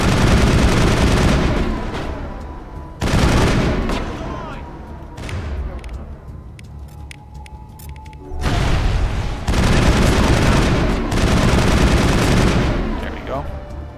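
Heavy rifle fire in the Mass Effect video game comes in loud sustained bursts that stop and start again, with quieter gaps between volleys and a voice speaking briefly over the combat.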